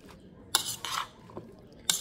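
Fresh salad with cucumber is tossed in a bowl, giving a few short, close rustling and clinking bursts of utensils against the bowl separated by quiet gaps.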